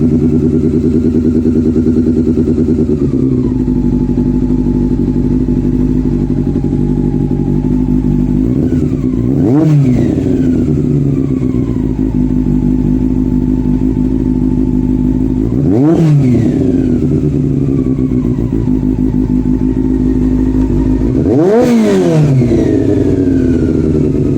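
A motorcycle engine runs steadily at a fast idle, slightly too high, loud and close, with a few sharp throttle blips rising and falling over it.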